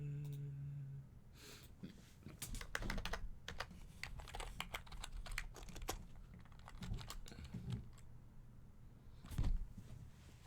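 Typing on a computer keyboard, with quick bursts of close clicky keystrokes that break into irregular clusters and pauses, set over a faint low hum with no talk.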